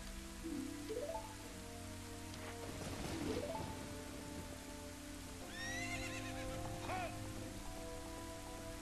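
In Ocarina of Time, Ganondorf's horse neighs and whinnies in the rain, with several rising and falling calls across the clip over a steady patter of rainfall and faint hoof clops.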